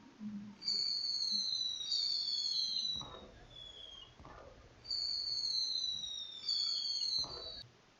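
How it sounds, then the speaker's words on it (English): Fireworks sound effect in a Unity-built video game: two pairs of bright descending whistles, each followed by a soft muffled pop, clean and fairly loud against quiet. "let's see if the fireworks will make a sound"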